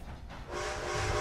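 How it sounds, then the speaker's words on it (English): Train arriving in the video game Red Dead Redemption 2: a broad rumbling wash swells after a brief lull, and steady whistle-like tones ring out over the noise for the rest of the moment. "The train's here."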